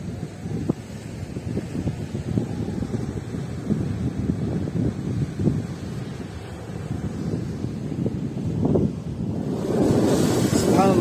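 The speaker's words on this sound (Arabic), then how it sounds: "تشوفوا البحر هايج" Rough, churning sea waves and gusty wind on a beach in Algeria, a continuous roar with wind buffeting the microphone, swelling louder toward the end.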